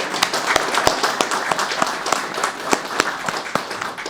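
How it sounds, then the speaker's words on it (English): A round of audience applause at a celebration of residential renovations, a steady patter of many hands clapping at moderate volume, sustained throughout without speech. "I just want to give a round of applause to everyone who was involved in making this moment possible"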